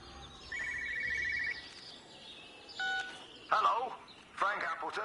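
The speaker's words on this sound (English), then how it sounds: "Wait, I can hear another phone." Telephone in the video game Everybody's Gone to the Rapture rings in short electronic trills, faint and somewhat distant, amid quiet outdoor ambience with bird chirps and a voice speaking.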